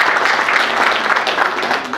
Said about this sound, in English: Another round of applause for PSST.